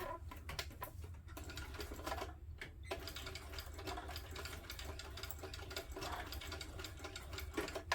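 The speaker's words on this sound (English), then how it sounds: "I'll do a bunch of stitches" A sewing machine stitching a strap on a sling crossbody bag, a steady rapid mechanical chatter of stitches running continuously and close, with a few brief pauses early on.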